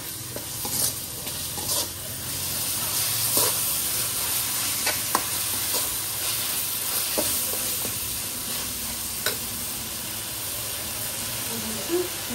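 A sauce with vinegar and tomato sauce hisses and sizzles loudly in a hot pan. Steady stirring adds repeated scraping clicks over a continuous frying hiss.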